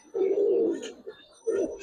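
A small male pigeon in a loft gives two throaty coos close by, a longer one then a shorter one after a brief pause, with no talk.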